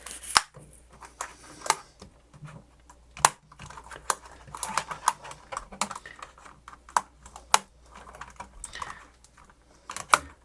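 Keys on a Lenovo T460 laptop keyboard are pressed and pried up during a keyboard replacement, giving irregular plastic clicks and snaps, some sharp and loud, others light, with scattered tapping between them and no voices.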